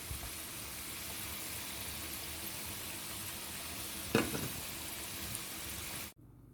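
Salted cod fritters fry in hot oil with a steady bubbling sizzle and a brief clink partway through, before the sound cuts off abruptly near the end.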